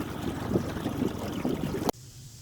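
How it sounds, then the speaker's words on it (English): A small boat motors off on misty water in northern British Columbia, a low rumbling drone with wind and water noise that stops abruptly near the end, leaving quiet hiss. "I'm sailing off into the mist."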